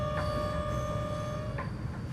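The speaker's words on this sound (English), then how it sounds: "There's the train, made it just in time." Train arriving in the video game Going My Way?, a steady rumbling hum with high whining tones and a couple of faint metallic squeals, continuous and fairly quiet.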